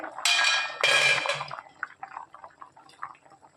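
A metal lid is lifted off a pot of boiling eggs and potatoes with two loud clangs, followed by soft bubbling and dripping water, near and fairly quiet.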